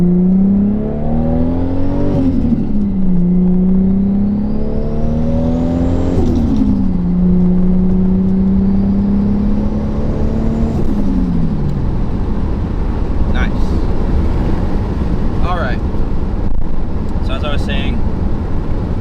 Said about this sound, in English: Let's go up in the RPMs a little bit.